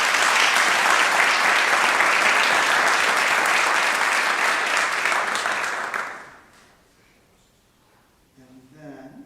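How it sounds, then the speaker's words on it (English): A college prize announcement audience bursts into sustained, loud applause for family, friends and supporters, a thick roar of clapping that holds for six seconds, then fades quickly into near silence before faint voices return. "I just want a round of applause for the family, friends, and supporters that have gotten these folks this far"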